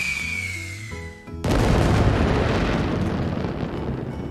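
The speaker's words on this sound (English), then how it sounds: "So yeah, space to light fireworks." Fireworks in the video game My Time at Sandrock: a rising whistle, then a sudden loud boom followed by a long, sustained roaring crackle.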